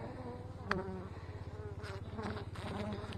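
Honey bees hum in a low, continuous drone close by at a small late-winter hive cluster, with individual buzzes flickering over the steady hive murmur.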